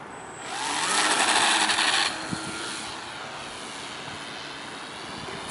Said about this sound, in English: Perfect takeoff.